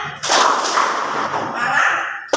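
A class claps a rhythmic tepuk siang pattern in a classroom, sharp, dense, overlapping hand claps from many hands blurring into one loud burst that rings on for about two seconds.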